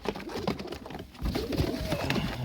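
Domestic pigeons cooing in a loft during vaccination, a steady nearby murmur of soft coos with light fluttering and shuffling throughout.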